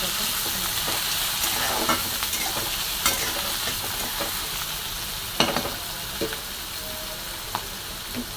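Onions and garlic frying in a pan, with a continuous close sizzle broken by occasional scraping stirs and soft clicks of the spatula, no voices.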